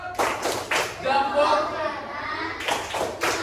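A class of schoolchildren claps in short rhythmic bursts in a group routine, the claps falling in quick clusters separated by brief pauses, fairly close and moderately loud.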